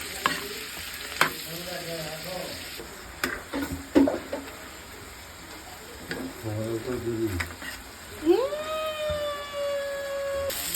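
Chicken fries in a pan with a constant sizzle. Stirring clatter and utensil knocks come through, along with intermittent brief voice-like tones and a rising tonal whine near the end.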